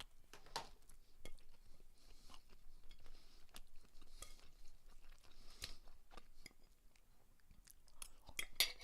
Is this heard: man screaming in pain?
no